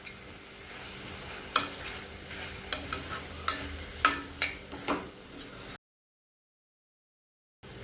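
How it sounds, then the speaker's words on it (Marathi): Spices being stirred into paneer burji in a pan, with a steady soft sizzle broken by several sharp scraping clacks of the spoon against the pan before the sound cuts off to silence. "मसाले सगळे एकत्र करून घ्यायचे."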